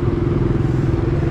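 Motorcycle ridden through busy city traffic in Islamabad, a steady close engine drone with road rumble and rattling, loud and continuous throughout.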